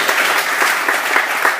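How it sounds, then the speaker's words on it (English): An audience at a summer church celebration applauds with steady, dense clapping, close and loud, a brief burst with no voices over it. "So let's give these guys a round of applause."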